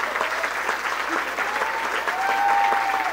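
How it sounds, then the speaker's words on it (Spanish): Studio audience applauding for a guest, the elected provincial prefect, on a comedy talk show; dense, steady clapping fills the clip at a constant level with some crowd noise and a sustained tone rising near the end. "Pido el último aplauso para mi invitado de esta noche"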